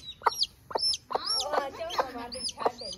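A hen clucks in a short run of close, clear, uneven clucks and squawks in a quiet household yard.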